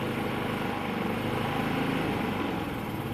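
A Predator 3500 generator engine running steadily at close range with the choke engaged, a loud continuous rough drone that holds without a break and has no talk over it.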